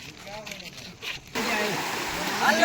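People splashing about in the cold water of the Mahisagar River, a rough, broadband wash that swells louder partway through, with voices faintly present nearby.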